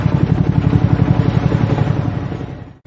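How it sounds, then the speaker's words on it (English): An attack helicopter runs close by with a fast, loud rotor chop, a steady rhythmic thumping that fades slightly before cutting off abruptly. "Attack helicopter."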